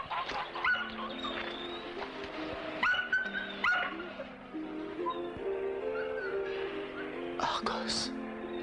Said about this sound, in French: C'était Argos, en effet. Un chien qu'Ulysse lui-même avait élevé.